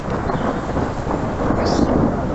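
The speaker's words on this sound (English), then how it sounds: "Here we go, thunder time." Thunder rolls from a developing storm near a home in Maghera in April 2011: a loud, sustained rumble with rain hissing underneath and no talking.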